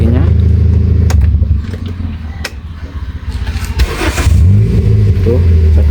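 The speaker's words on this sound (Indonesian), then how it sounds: "Coba kita matikan mesinnya." A Kia Picanto with a rough-running engine that smoked idles loudly with uneven low chugging, revs briefly, then winds down as it is switched off, with a voice talking over it.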